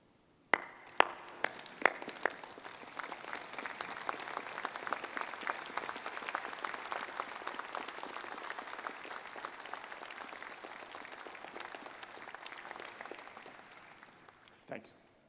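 A convocation audience applauds at length to honour Loretta Rogers during a spring university ceremony, steady dense clapping filling the hall from start to finish, with a few sharp isolated claps at the opening and a quick fade at the end.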